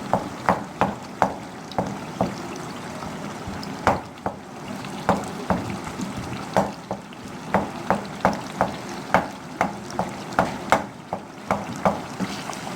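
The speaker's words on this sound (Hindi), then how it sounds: "इस टमाटर को अच्छी तरह से इसमें मैश कर देना है" Tomato being stirred and mashed into a sizzling beef masala curry, a steady series of spoon knocks and scrapes against the pot over a soft frying hiss, with no talking.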